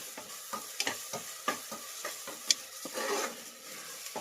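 Ginger garlic paste and green chillies sizzle in a pan while a spoon stirs and scrapes in quick, irregular taps, close and fairly soft, with no talking.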